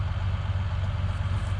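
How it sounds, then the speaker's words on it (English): A Dodge dually pickup with dually tractor tires on the back idles close by, giving a steady, low, rumbling drone with an even pulse and no change in pace. "It's a Dodge Dually, and they got Dually tractor tires on the back."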